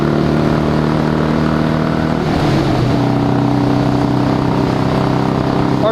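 A 26-year-old Harley-Davidson motorcycle accelerating hard toward top speed across a bridge, its engine a loud, continuous droning roar with a pitch shift midway as it climbs through the gears, heavy wind noise layered over it.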